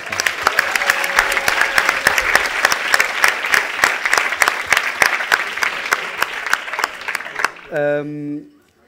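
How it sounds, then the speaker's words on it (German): Live game show audience clapping loudly and close, sharp individual claps in a brisk burst for about seven seconds, then a voice speaks briefly as the applause ends. "Nochmal Applaus."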